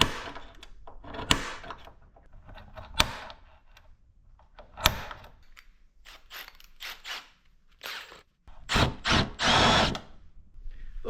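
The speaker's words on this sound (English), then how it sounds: "we're gonna drill out some spot welds" Drill bit boring out spot welds on car body sheet metal, with a spring-loaded center punch used nearby: several short close bursts of drilling and mechanical clicks, separated by pauses, alone without talk.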